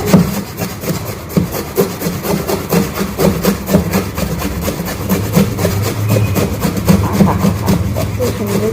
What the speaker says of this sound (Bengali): আমটাকে ভালো করে ছুলে নিয়েছি। এখন আমি এটাকে ঘষে নেব।